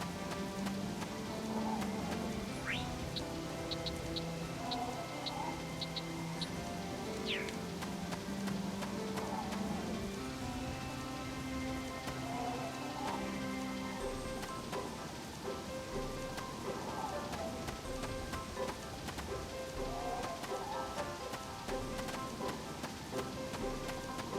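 Steady rain patters continuously in the video game Harvest Moon: Animal Parade over background game music, with a faint tinkling melody and soft ambient tones throughout.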